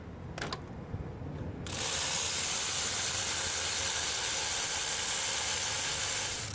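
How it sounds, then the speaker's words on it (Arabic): A Kia Sephia engine with fouled spark plugs starts after a brief quiet moment, then runs with a steady, loud, hissing drone for the rest of the clip. "الثاني اللي جي نطقه وراها نشغل الماطور"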